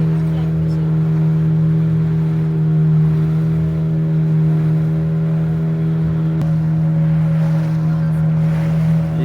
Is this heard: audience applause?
no